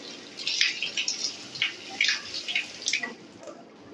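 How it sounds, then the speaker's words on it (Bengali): Flattened rice rinsed under a running tap, a steady close stream of water with splashing and patters as the grains are handled, moderately loud. "আমি ডাইরেক্ট কলের নিচে চিড়েটাকে নিয়ে নিলাম আর এইভাবে কিন্তু ধুয়ে নিলাম।"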